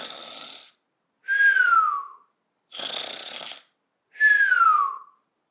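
A voice imitates a sleeper snoring for a children's Goldilocks story: two cycles of a rasping breathy inhale followed by a whistling, falling exhale, evenly paced with clear pauses and no other sound.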